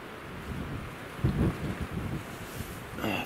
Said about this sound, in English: Windy as hell, like, wind's really picked up.